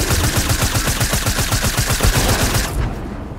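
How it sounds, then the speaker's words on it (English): Rapid SMG fire in Fortnite, a fast steady stream of loud close shots lasting nearly three seconds before cutting off into a fading tail. "Shoot that down with your 7th SMG."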